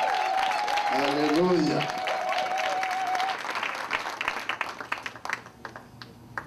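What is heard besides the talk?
congregation applauding in church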